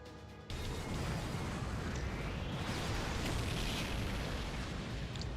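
Ship cannons firing in a video game: a sudden, loud, dense roar of blasts and rumbling booms that begins abruptly and then holds as a continuous thundering wash until the end.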